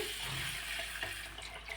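Plenty of water pours steadily onto rice that has already been washed and is being set to soak, a continuous close rushing splash with no voices.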